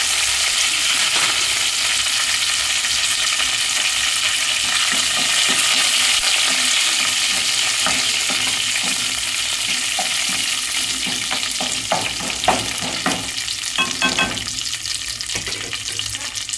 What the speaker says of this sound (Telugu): ఇంకా కరివేపాకు వేస్తున్నాను.